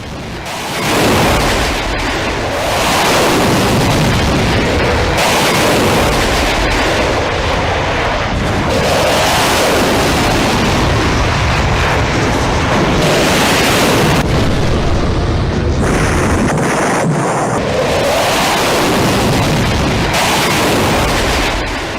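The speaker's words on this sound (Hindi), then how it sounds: "कुछ इस तरह रफाल ने मिसाइल फायर की और उसके बाद पाकिस्तान में आतिशबाजी शुरू हो गई।" Missile launches and explosions from a Rafale jet strike during Operation Sindoor, heard as a continuous series of loud booming blasts and rumbling bursts across the whole stretch, with no talk.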